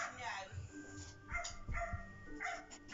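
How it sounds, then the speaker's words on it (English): A dog yips and barks in short bursts inside a moving car, close by, mixed with whimpering and people talking over it. "snappy, jumpy, barky thing"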